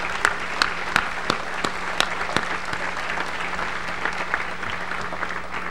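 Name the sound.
graduates applauding their parents at commencement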